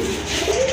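Pigeons at a seller's stall give a soft, steady cooing at close range, with low throaty coos drawn out through a short stretch and no talk over them.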